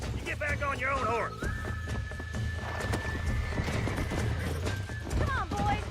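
In the Red Dead Redemption video game, a horse whinnies in a rising, wavering cry over clopping hooves, with a long held tone and another brief neigh near the end, under game dialogue.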